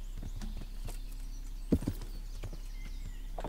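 Horse galloping in the medieval game Kingdom Come: Deliverance, a faint, rapid patter of hoofbeats over a steady low hum, with one brief louder thump midway.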